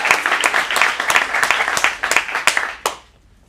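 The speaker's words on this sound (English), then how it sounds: "let's get a round of applause" Studio audience breaks into applause and cheering at an adult acting showcase in Phoenix, a dense burst of clapping lasting about three seconds before fading out with a final few claps.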